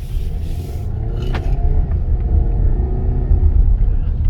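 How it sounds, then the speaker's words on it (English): A 2019 Ford Edge with a small 4-cylinder engine accelerating, heard from inside the quiet cabin as a steady, low engine rumble that holds strong throughout. "Acceleration."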